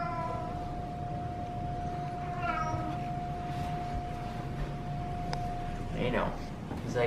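A cat meows several times, short rising calls up close that stand out over steady background hum, with a faint whine running beneath.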